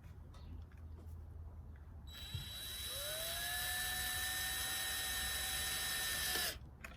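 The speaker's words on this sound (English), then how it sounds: "Get your wood screws and carefully start running those through those pilot holes" Power drill driving wood screws through pilot holes into cedar boards of a tall raised garden bed, a steady whining motor rising in pitch and holding for several seconds near the mic before stopping abruptly.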